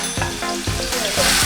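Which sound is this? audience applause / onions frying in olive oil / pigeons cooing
onions frying in olive oil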